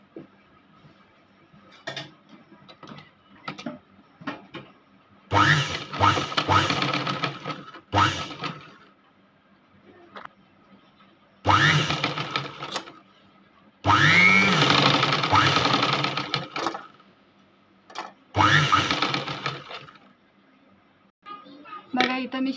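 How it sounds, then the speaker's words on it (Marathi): A sewing machine stitching blouse fabric, whirring in several sustained runs of a few seconds each, with quieter pauses between them where faint handling sounds and a voice can be heard. "आता आपण याच्यावर एक शिलाई टाकूया"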